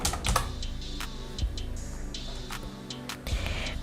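Typing on a computer keyboard, close and clear, with a quick run of sharp key clicks and a few heavier thumps, like keys or the space bar struck harder, over a faint background hum.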